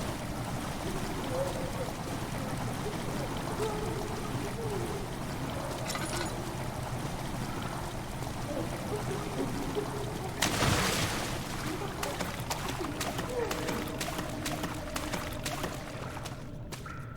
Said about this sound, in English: Water has begun to slowly fill the chamber.